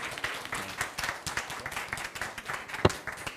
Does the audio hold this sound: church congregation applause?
yes